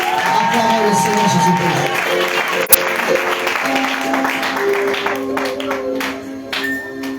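Congregation at a church wedding service clapping and cheering, a lively crowd of applause with voices rising through it, steady and close, thinning toward the end.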